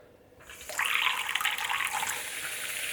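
Tap water gushes from a faucet, starting with a brief splash and then settling into a steady, close, full stream running into a sink with no voices.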